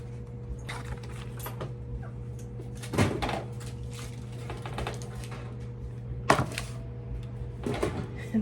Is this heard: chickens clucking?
no